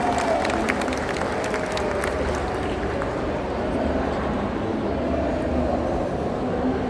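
Applause from a packed audience at the opening ceremony of the NFH Expo 2025, a dense, steady clatter of clapping that fills the whole stretch with a voice faintly mixed in.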